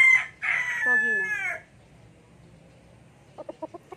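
A rooster crows loudly nearby in a long, wavering call, followed after a pause by a few quick soft clucks.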